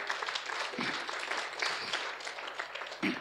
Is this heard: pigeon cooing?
no